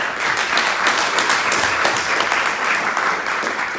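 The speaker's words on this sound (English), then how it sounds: "So please, big round of applause to the Forward Report staff." A room full of people at a voter-focused panel gives sustained, even applause for the Forward Report staff, a thick continuous patter of many hands clapping at moderate distance.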